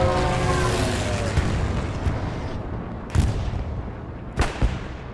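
Precision strike bombing in the Hell Let Loose video game on a competitive match map: a continuous roar of distant artillery and explosions, with sharper blasts standing out near the end.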